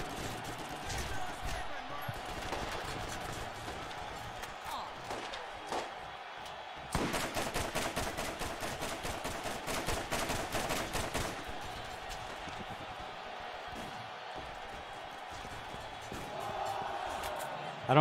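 Gunfire in the video game Borderlands comes as a fast burst of rapid repeated shots midway through, between scattered single shots and game effects, while players talk excitedly over the action.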